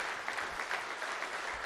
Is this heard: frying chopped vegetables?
no